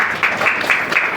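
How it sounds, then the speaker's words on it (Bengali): Women in a church congregation clap in a quick, brief burst of applause close to the microphone. "তাহলে মহিলারা একটু হাততালি দাও।"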